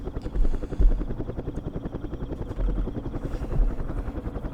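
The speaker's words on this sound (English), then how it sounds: "Our recon helicopter is done." A recon helicopter in Campaign Series Vietnam, during the Battle of Hue, gives a close, steady rotor chop with rapid regular blade thumps and a few heavier low thuds.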